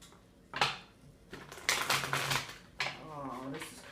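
Crisp papery riffles and snaps of tarot cards being shuffled, several quick bursts close by, with a soft voice murmuring between them.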